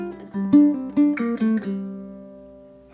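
Ukulele plays the closing two bars of a hammer-on and pull-off etude, a quick run of plucked notes with slurred changes that settles onto a final ringing chord decaying alone.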